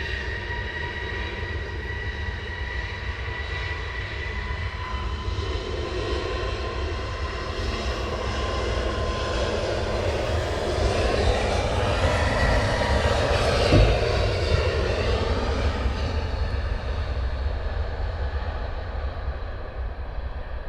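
An airliner lands at Luton Airport in a roughly 20 mph crosswind on an early summer morning, a loud sustained engine roar that swells toward the middle as it passes nearby, heard alone without talking.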